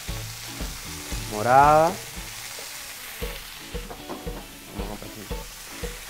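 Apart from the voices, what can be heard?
sautéing cubanelle pepper and red onion for sofrito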